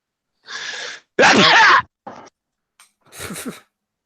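A single loud, close sneeze with a sharp intake beforehand, a few quieter breathy sounds around it, then a sniffle.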